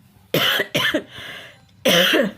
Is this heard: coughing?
yes